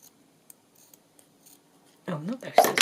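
Scissors cut through paper bag material in a few quick, close crunching snips after a stretch of quiet, faint handling noises.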